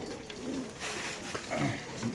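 Racer pigeons in market cages, a caged pair for sale, coo repeatedly amid busy market noise, the soft throaty calls rising and falling close by.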